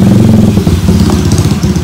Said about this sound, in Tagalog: Pandarin lang muna natin yung spin motor